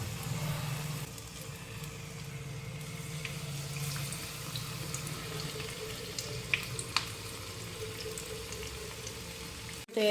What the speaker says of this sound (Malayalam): നമ്മുടെ എണ്ണ നന്നായിട്ട് ചൂടായിട്ടുണ്ട് അപ്പോൾ നമുക്ക് ഇപ്പോൾ ഓരോന്നും നമുക്ക് ഫ്രൈ ചെയ്തെടുക്കാം